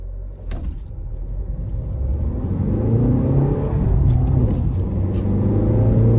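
A Tata Altroz facelift hatchback pulls away from a stop in first gear in city mode, its engine rumble rising smoothly and steadily as it accelerates, heard close from inside the car.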